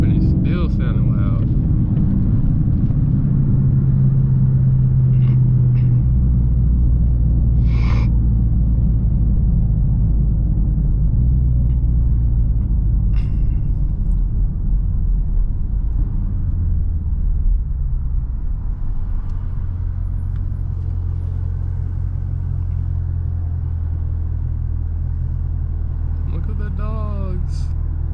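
A 2018 Dodge Charger RT engine rumbles deep and loud from inside the cabin while driving with the windows up, a steady heavy drone heard under occasional talk.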